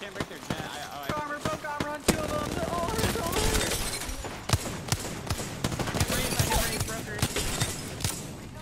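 Fast bursts of gunfire in the battle royale game Apex Legends: sharp, close shots in rapid strings over a busy bed of game sounds.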